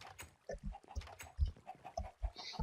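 A chicken in a video game clucks in short, repeated low bursts at an uneven rhythm, quiet and fairly close, with no speech over it.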